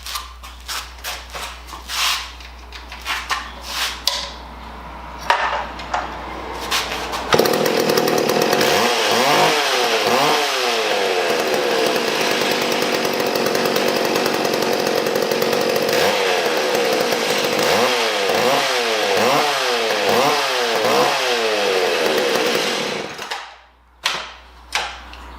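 A Mac Timber Bear chainsaw, restored after a fuel line failure, starts after a few pulls and runs loud and close for about fifteen seconds, revving up and down repeatedly before cutting off.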